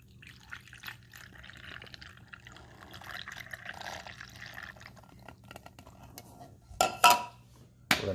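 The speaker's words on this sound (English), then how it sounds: "So we're going to pour the water in." Water poured from a small container into the reservoir of a Walmart Mainstays single-serve dual brew coffee maker, a soft trickling fill close by, ending with a couple of sharp plastic clicks and knocks.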